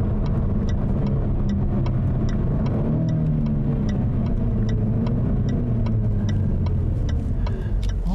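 A 2021 Jaguar F-Type sports car engine drones steadily inside the cabin, revs shifting as it downshifts, with a faint regular ticking above the low rumble.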